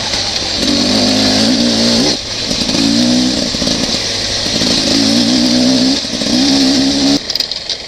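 A Beta 300RR dirt bike engine revs hard in repeated bursts, rising and dropping with each gear shift, loud and close with a brief lull between pulls.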